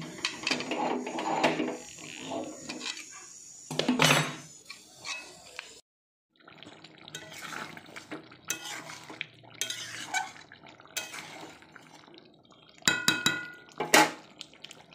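A kadai clattering and scraping during stirring of chicken and potato curry, repeated metallic knocks and scrapes in bursts with a short silent gap, close and fairly loud, no talk.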